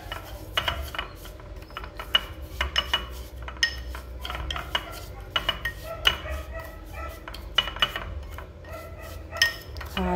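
Salt and rubbing alcohol stirred together in a container for a homemade air freshener, producing steady gritty scraping with frequent sharp clinks and taps of the spoon against the sides.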